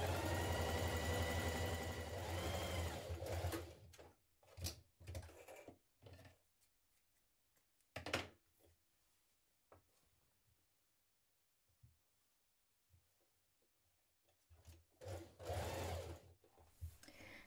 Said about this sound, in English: So I'm going to stitch mine first of all,